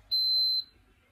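A Mickey Mouse waffle maker beeps once when finished cooking: a single clean, high electronic tone lasting about half a second, loud and close against near silence.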